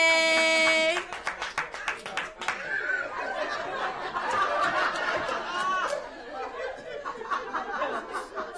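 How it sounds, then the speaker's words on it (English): At an all-female stand-up comedy show, a short tonal note gives way to scattered clapping from a small audience, mixed with chatter and chuckles, then fading into murmuring and laughter. "give yourselves a round of applause"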